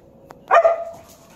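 A puppy gives a single sharp bark with a short whimpering tail during a morning play session, fairly close and loud against an otherwise quiet background.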